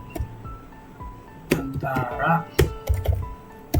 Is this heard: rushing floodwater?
no